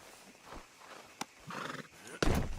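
A horse in the video game Red Dead Redemption 2 gives a short whinny after a sharp click, followed by a louder burst of snorting and movement, close by amid faint background game sound.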